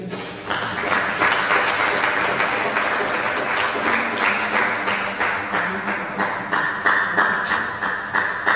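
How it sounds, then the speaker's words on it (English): Sustained applause from a crowd, steady clapping that fills the whole stretch at an even, fairly loud level. "Please let's sustain the applause."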